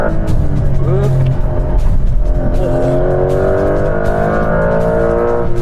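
New Porsche 911 driving on a slippery race track, its engine roaring loud and steady up close with rising revs throughout, no talk over it.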